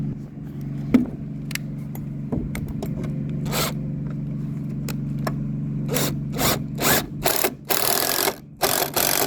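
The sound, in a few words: power drill drilling a pilot hole in wood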